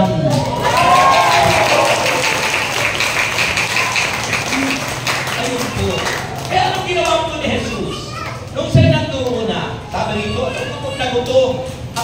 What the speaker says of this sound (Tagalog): ang palakpak ng mga Kristiyano, parang buhos ng ulan